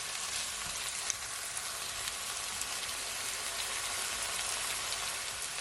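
Tomato fries in a pan with shrimp stir-fry ingredients, producing a dense, even hiss of sizzling that holds steady throughout, close and fairly quiet, with no one speaking.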